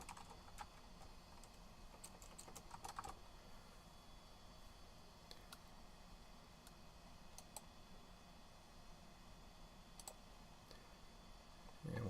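Typing on a computer keyboard, with bursts of clicky keystrokes and pauses between them, close but fairly quiet over a steady background hiss, with no talk.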